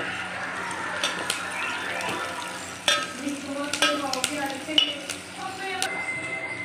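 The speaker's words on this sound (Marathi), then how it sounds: "कांदा, लसूण, अद्रक छान झाले की आपण टाकूया कोथिंबीर, छान परतून घेऊया।" Onion, garlic, ginger, coriander and green chilies sauté in a pan for a quick khichdi, a soft sizzle under spoon stirs and metallic clinks against the pot, with a voice speaking intermittently.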